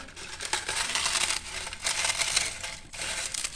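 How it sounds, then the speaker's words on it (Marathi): Roasted papad crushed by hand into crumbs, a close, dense crackling and crunching with brief pauses between squeezes, no voices. "इथे आता आपण पापड भाजून झाले, त्याचा आपण चुरा करतोय"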